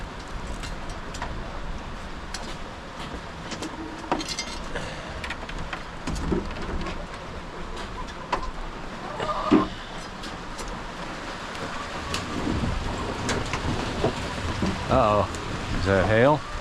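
Hail and rain falling during a summer hailstorm on a farm: a steady dense patter of rain with sharp irregular clicks and impacts on surfaces, a distant rumble, and people talking now and then.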